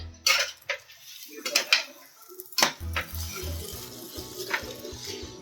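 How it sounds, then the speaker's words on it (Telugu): Corn paneer pulao is stirred in a pot, with sharp metal clanks of a spoon against the rim and softer scraping and rustling of rice, close by and irregular, with a low background hum. "బాగా మిక్స్ చేసుకోవాలి"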